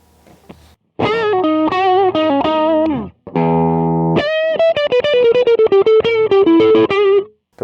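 Electric guitar through the JCM 800 amp model of a Donner MultiPad-100 with effects, loud close chords and single notes with a held chord mid-phrase, distorted and reverberant, no talking.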